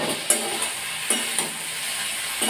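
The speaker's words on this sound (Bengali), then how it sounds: "আলুতে আর ফুলকপিতে খুব সুন্দরভাবে নাড়তেই থাকলাম মশলার সাথে।" Cauliflower and potatoes being stirred with spices in a frying pan give a steady sizzle of frying, broken by a few sharp scrapes and knocks of the spoon against the pan. No voice is heard.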